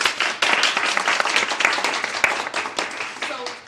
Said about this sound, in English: a round of applause for these wonderful ladies